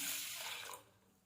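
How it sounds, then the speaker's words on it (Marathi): Rice and moong dal are rinsed in water for a simple moong dal khichdi, giving a soft, close swish and splash of water that fades out after about a second. "ही एकदम स्वच्छ धु धुवून घ्यायची दोन तीन पाण्याने"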